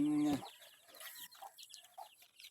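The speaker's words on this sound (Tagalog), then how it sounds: "ito nga pala yung aking sisiw" Baby chicks chirp in quick, faint, high peeps scattered across the moment, following a brief steady tonal sound at the start.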